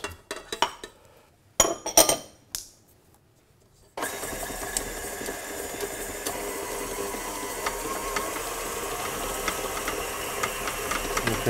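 An electric mixer creams butter and sugar for a frangipane in a kitchen, starting after a few clinks of bowls and utensils and then running as a steady, loud whir to the end.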